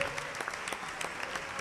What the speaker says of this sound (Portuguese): Aplaude o Senhor que é digno.